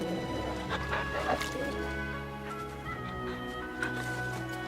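A dog in the video game Final Fantasy XVI gives a few yipping barks and a whimper over steady game music and background sound.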